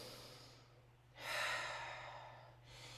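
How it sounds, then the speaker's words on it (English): A single deep breath during a classical Pilates flow: a long airy inhale rising after a quiet pause, then easing off as a soft exhale, close and gentle over a low steady hum. "Take one deep breath."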